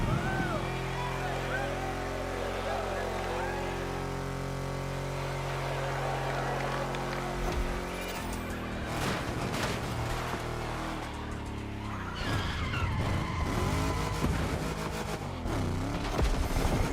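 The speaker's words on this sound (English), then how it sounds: "Hear these engines." Car engines in The Crew Motorfest racing game on Oahu, Hawaii: steady engine drone that gives way to rougher revving, skids and clattering bursts, loud and continuous throughout.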